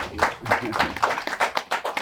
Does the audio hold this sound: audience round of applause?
yes